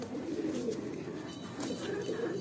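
Crested, netted Kalsare pigeons in a loft coo in a steady low murmur, a continuous soft rolling burble that runs unbroken and fairly close.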